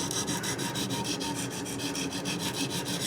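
A knife blade scrapes in quick, even, rhythmic strokes across a ViperSharp diamond knife sharpener at a 15-degree angle, making a close, continuous rasping with no talking.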